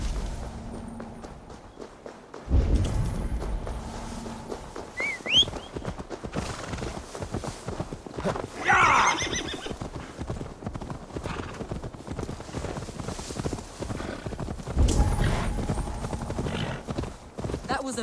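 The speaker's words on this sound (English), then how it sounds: "Now to deliver Magni his horse." In the Assassin's Creed Valhalla video game, horse hooves clip-clop in a steady walking rhythm, a horse whinnies clearly midway, and dull thuds occur, all under ongoing game dialogue and background music.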